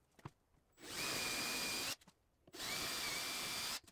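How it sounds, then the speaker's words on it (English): A power drill with a countersink bit whines through two long bursts, each about a second or more, with a short pause between, close and loud, biting into wood. "I'm drilling a nice big countersink here,"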